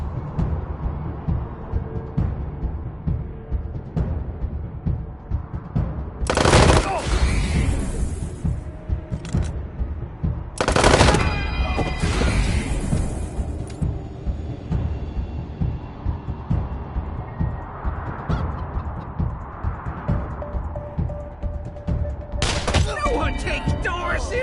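Gunfire from a Wasteland 3 firefight, with several loud broadband bursts of shooting over a steady game soundtrack, one near six seconds, another near eleven, and a final volley at the end, while voices call out.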